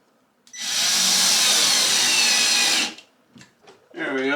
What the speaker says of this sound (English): I'm going to come in here and just put a screw into the wall up top